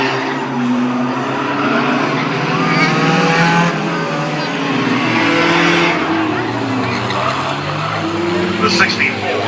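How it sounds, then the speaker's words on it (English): Hornet-class figure 8 race cars roar around a short track, a dense continuous wall of engine noise with several cars revving and passing at once, loud and steady throughout, with a voice talking over the racing. "alkenburg III coming out of the second turn, almost running into the back end of his teammate coming out of the second turn on the third lap of the 15 in this Hornet Figure 8"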